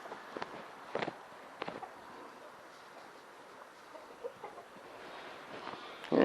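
Chickens in a backyard coop give occasional short clucks and squawks over a quiet, steady background, with a few sharper bursts early on and a louder rustle at the very end.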